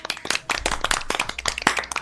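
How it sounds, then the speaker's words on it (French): Scattered hand claps from players over voice chat in a Garry's Mod Trouble in Terrorist Town session, a few uneven bursts of clapping close to the microphone lasting about two seconds. "On applaudit!"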